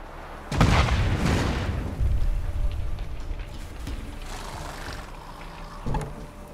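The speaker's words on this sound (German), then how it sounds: "Was war das für eine Explosion?" A heavy explosion in The Witcher 3 game: two deep booms land close together near the start, followed by a long, low rumbling tail that slowly fades, with a smaller thud near the end.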